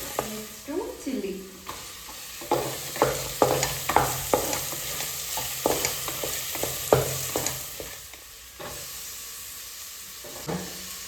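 Chilli and cashews stir-fry in a hot pan, a steady sizzle broken by repeated spatula scrapes and knocks in an uneven rhythm, close by and fading toward the end.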